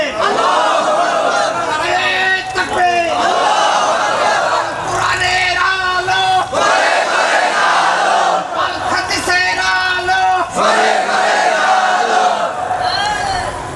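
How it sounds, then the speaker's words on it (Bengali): Large crowd at an Islamic religious gathering (waz mahfil) shouting slogans in unison, loud and sustained with repeated rising group chants and bursts of voices throughout. "স্লোগান দিয়ে আল্লাহরে দেখান।"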